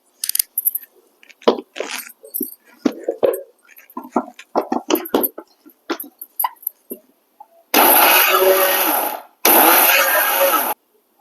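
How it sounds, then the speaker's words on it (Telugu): People talk amid scattered clatter, then a mixer grinder grinding spices roars loudly in two long bursts, with a short pause between them. "ఇప్పుడు మిక్సీ పడతాను"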